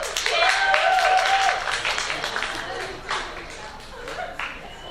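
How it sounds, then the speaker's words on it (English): Applause from a school audience at a class of 2016 talk, dense clapping that starts loud and gradually thins and fades, with a few whistles or cheers mixed in and some voices underneath. "Give a round of applause."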